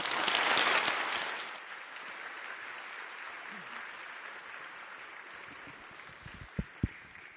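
Applause welcomes President Lai Ching-te to the podium at the AmCham Taiwan 2025 year-end banquet, a loud burst of clapping that settles into a steady, softer ovation, with two sharp knocks near the end.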